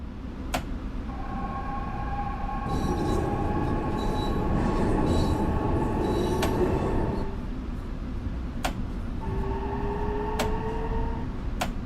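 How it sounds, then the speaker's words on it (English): A train arrives at a station in the Train Sim World 6 game on a semi-express run from Grand Central Terminal to Stamford: steady rolling rumble with squealing wheel tones, sharp clicks and sustained whines, no talking. "As you can see, that train's coming in."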